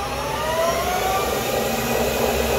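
A Harrison Alpha 400 CNC turning center spindle runs steadily, a constant close whirring hum with a high tonal whine that glides slightly in pitch as the speed shifts, with no talking.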